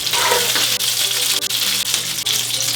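Meatballs fry in hot oil with a loud, dense, continuous sizzling hiss and crackle, close up and steady throughout with no voices.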